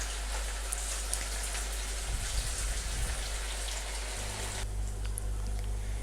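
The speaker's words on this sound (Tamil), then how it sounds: "நம்ம போட்ட காலிஃப்ளவர் எல்லாமே 2 மினிட்ஸாக நல்லா டீப் ஃப்ரை ஆகிட்டு இருக்குது" Cauliflower pieces deep frying in hot oil over medium heat, a steady dense crackle like rain, constant and close throughout with a brief low rumble midway.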